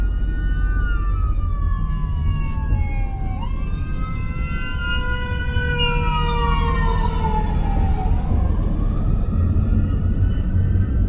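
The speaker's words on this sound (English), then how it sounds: "That's an ambulance coming up." A loud ambulance siren wails with rising and falling tones, sweeping continuously over heavy traffic rumble in New Orleans; no talking.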